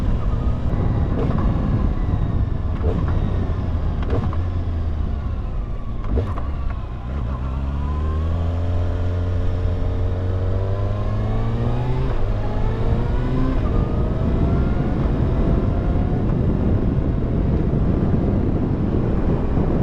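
A new 2025 Kawasaki ZX6R sport bike runs during its break-in period, its engine note rising and falling through gear changes over steady wind roar, loud and close throughout, with no speech.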